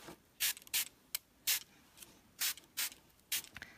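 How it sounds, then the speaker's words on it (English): A hand spray bottle mists water onto a mixed-media art piece: about nine short, crisp hissing spritzes in an uneven rhythm, close and fairly clear against quiet. "I'm going to spray some water to make it run."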